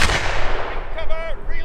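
Redcoat re-enactors fire a musket volley while defending Braemar Castle in Scotland, a loud booming blast with a long rumbling decay, and voices shout over the tail.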